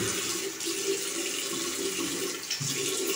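Warm water runs steadily from a tap into a sink as the face is wet before a traditional wet shave, a continuous close splashing hiss with no talk.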